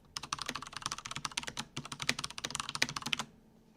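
Typing on a new computer keyboard that is less clicky than an old one: a fast, continuous patter of close, softer key strokes for about three seconds, then stopping, with no speech.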